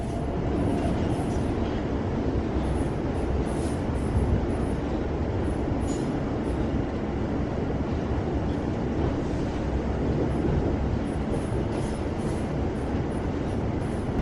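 Train coaches coupled together rumble steadily over the rails and through points, a loud continuous clatter and roar with faint high squeals of wheels, no voices.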